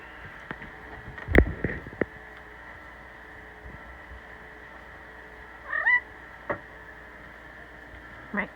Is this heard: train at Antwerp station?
no